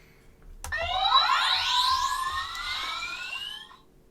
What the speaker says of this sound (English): So this is the sound of the bridge on the original Enterprise.